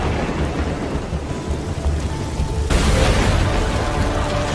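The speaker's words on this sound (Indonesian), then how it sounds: "Saat hujan, Lilim lalu pergi dari kafe tersebut dan tak sengaja petir menyambar" Heavy rain pours steadily in a Korean drama scene, with a loud rumble of thunder breaking in partway through and the downpour continuing dense and close.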